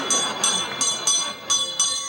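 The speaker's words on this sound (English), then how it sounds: "when I add this little bell" A small bell added beside a little kettle, rung in a steady rhythm of about six bright, ringing strikes that each decay quickly, heard up close.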